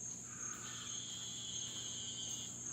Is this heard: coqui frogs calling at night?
yes